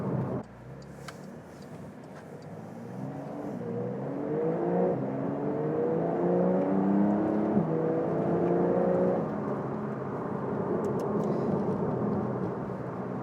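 A Porsche 992 Carrera T with PDK and rear axle steering drives through a corner on a UK road. The engine note swells and climbs steadily, then eases off under road and cabin noise, with no talk.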